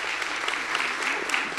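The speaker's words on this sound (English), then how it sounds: "Let's give this young man a round of applause." A crowd gives a brief round of applause, the dense clapping steady and moderately loud, with no voices standing out.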